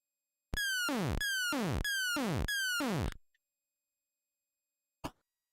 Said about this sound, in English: The alarm is loud.